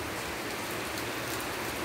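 Heavy morning rain pouring down outdoors, a dense, even hiss of drops on surfaces that holds steady throughout with no voices.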